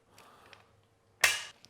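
A torque wrench clicks once, sharp and close, as it reaches 50 inch-pounds on the rear ring of a rifle scope mount, following soft handling noises.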